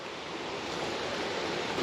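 Steady roar of rushing water from a nearby waterfall, a dense continuous wash of noise with no breaks and no voices over it.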